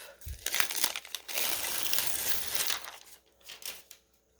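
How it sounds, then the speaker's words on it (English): Paper backing being peeled off a large adhesive dragonfly cutout in a craft tutorial; close, continuous crinkling and tearing rustle for a few seconds, tapering off at the end. "peel the paper off."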